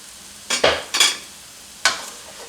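Roast beef browning in a hot pan before going into a crock pot, heard as a few short scraping stirs and sizzling bursts, close and fairly loud, separated by quieter gaps.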